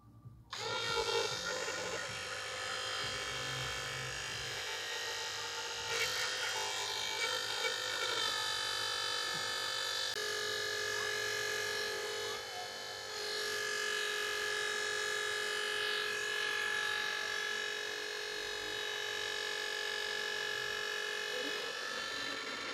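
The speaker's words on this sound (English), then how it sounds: "So I'm going to be pumping in roughly 3 quarts." A battery-powered pump connected to the vehicle's battery pushes CVT fluid into a 2017 Toyota Corolla 1.8 during a drain-and-fill service, giving a steady, close electric whine and hum that runs nearly unbroken for over twenty seconds.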